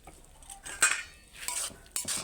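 A utensil stirs shrimp and leafy greens curry, freshly drizzled with mustard oil, in a pan. The sound is quiet and close, with a few light metallic clinks and scrapes spread across a soft background.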